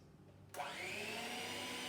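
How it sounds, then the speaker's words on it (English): Motorized whisking of cake batter with eggs for a lemon drizzle cake starts abruptly after a short quiet gap, becoming a steady, faint whirring drone that holds to the end. "Hand whisk, here we go. I'm sorry about the noise."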